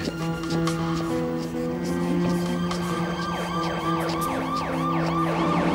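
An ambulance siren wails steadily and loudly in a repeating rising-and-falling pattern, close by, with a low vehicle rumble underneath.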